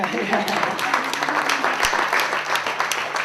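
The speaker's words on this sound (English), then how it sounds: "I think that was someone from the DDA that got that applause started" An audience claps during the 2014 Ferndale mayor's State of the City address, with steady dense applause filling the room while a speaker's voice carries over it.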